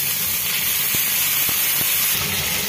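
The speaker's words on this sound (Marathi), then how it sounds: "अर्धी वाटी पाणी घालून घेऊया" A loud, steady steam hiss fills the whole moment as water hits hot tempering oil with mustard seeds, cumin, curry leaves and chopped green chillies for a moong dal dhokla.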